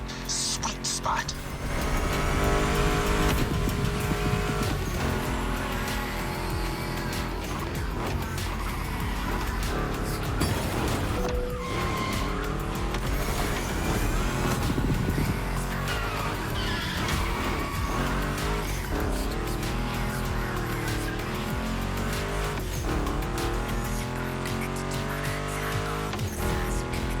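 Ford Mustang GT muscle car racing in The Crew Motorfest, its engine roaring loudly throughout with revs rising and falling and tires squealing through turns, under steady music-like ambience.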